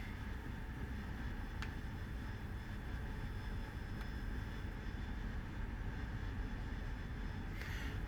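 Sustained, steady roar of an AV-8B Harrier jet engine at full power for takeoff in the DCS flight simulator, a constant dense rumble holding throughout with no voices.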